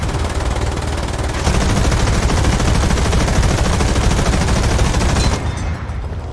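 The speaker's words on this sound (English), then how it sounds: "Those guns sound so much better now." Tank guns in War Thunder fire in a long, loud, rapid burst, continuous and close, stopping abruptly near the end with no talking.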